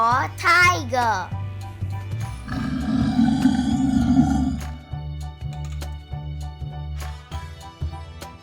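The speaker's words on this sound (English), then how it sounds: "T for tiger." A tiger's roar rumbles loudly at mid-clip amid a children's alphabet lesson on animal sounds, after a short sung or spoken phrase and before a lingering low tail.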